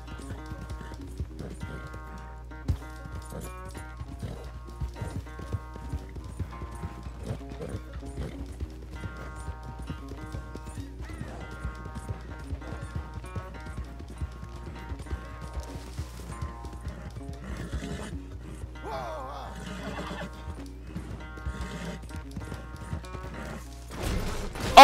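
A horse in the video game Red Dead Redemption 2 runs with a continuous rapid clip-clop of hooves alongside a low steady hum and tonal game sounds, rising in intensity near the end.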